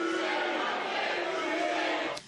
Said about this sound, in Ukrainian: Колег випроводжали під вигуки «Ганьба».